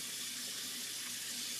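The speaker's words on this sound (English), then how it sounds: "I'm going to wash my face." A bathroom tap runs steadily into a sink while someone washes their face, with a continuous close hiss of flowing water and no talking.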